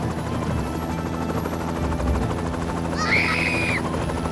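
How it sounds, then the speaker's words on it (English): A cartoon helicopter in a children's dinosaur story, a steady rotor drone and chatter under music, with a brief high whistling effect near the end. "The helicopter left,"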